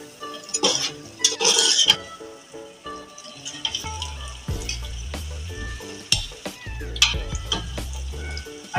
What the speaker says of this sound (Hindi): एक से 2 मिनट इसको हल्का सा भून लेंगे